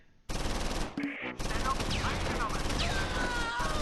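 Machine-gun fire from the Close Combat IV war game, dense rapid bursts of automatic gunfire that cut out briefly and then resume as long continuous fusillades, loud and close.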